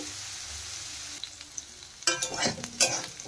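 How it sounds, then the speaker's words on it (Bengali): Potato, cauliflower and carrot frying in a pan, a quiet low sizzle at first, then louder scraping and stirring bursts as a spatula moves them around. "আলু, ফুলকপি আর গাজর হালকা করে বেশ সুন্দর করেই ভাজা হয়ে গেছে।"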